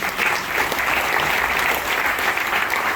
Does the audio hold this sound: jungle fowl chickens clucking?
no